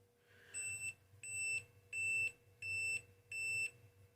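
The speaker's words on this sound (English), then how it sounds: "That's the multimeter switching off." Multimeter switching off while testing CAN bus wiring, five evenly spaced, shrill electronic beeps in a steady rhythm, fairly faint and with no voices.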